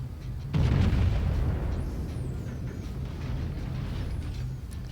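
A ship's magazine detonating in World of Warships: a sudden heavy boom that rolls into a long low rumble, loud and alone without any talk.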